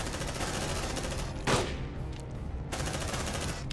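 Gunfire in the video game Aliens: Dark Descent: continuous rapid automatic bursts, loud and dense, with one sharper blast partway through and no talk.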